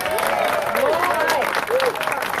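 Applause from a crowd at a political rally for a congressional candidate, a steady wash of clapping lasting throughout, with a faint voice sounding over it.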